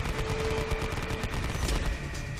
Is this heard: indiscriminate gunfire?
yes